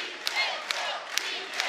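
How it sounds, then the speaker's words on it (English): Boxing crowd at a World Series of Boxing bout, fans raising their voices in a broad, sustained roar with a few sharp shouts poking through, heard from a distance at moderate volume. "Local fans raise their voices"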